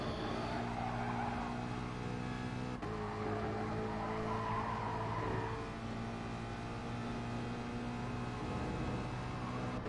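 A GT3 race car in a sim racing game sliding on dirt at Dragon Trail, tires scrubbing and skidding over a loud, continuous engine drone that shifts pitch as the car loses grip, with no talk.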